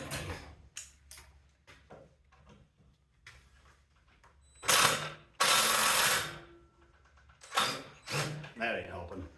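Wrench working a stripping bolt on a feed conveyor being scrapped, giving faint clicking, ratcheting ticks through the first half, then bursts of loud scraping and grinding near the end.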